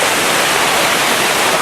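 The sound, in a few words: waterfall at Crummock Water, Lake District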